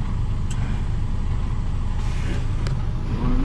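Truck engine droning steadily from inside the cab while driving, a constant low rumble with road noise and a couple of faint clicks, no talk.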